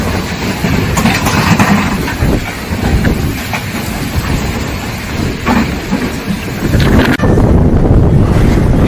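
Strong windstorm gusts in China buffet a microphone outdoors, a loud continuous roaring rush of wind with heavy rumbling buffeting that surges louder near the end.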